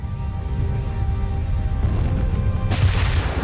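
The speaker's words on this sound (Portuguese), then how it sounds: "O colapso do centro de ferro expele o resto da estrela em uma explosão colossal." A deep, rumbling explosion sound effect for a supernova swells continuously, then gains a brighter crackling burst near the end.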